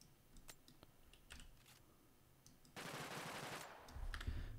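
Weapon firing in an Unreal Engine 5 shooter demo: faint scattered clicks and shots, then a sustained loud burst of rapid automatic fire about halfway through, with low thuds at the end.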